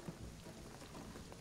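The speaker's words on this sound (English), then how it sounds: "the rain is gonna flood this" Steady rain with a low thunder rumble fills a stormy scene in Shadow of the Tomb Raider, a continuous faint wash of noise with no voices.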